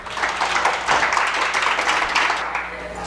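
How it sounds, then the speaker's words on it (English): Steady applause from a crowd, dense clapping filling the space at even loudness for a few seconds. "All right, let's give Toby another round of applause."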